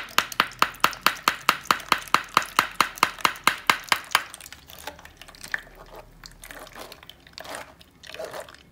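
Soursop pulp squelches wetly as it is mashed by hand, with about fifteen quick, evenly spaced close squishes followed by softer, irregular wet sloshing.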